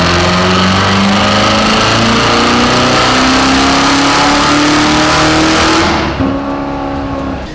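Supercharged Corvette C7 Z06 on a dyno, engine roaring loud and steady through a full-throttle pull, pitch climbing smoothly for about six seconds before the throttle lifts and the tone drops.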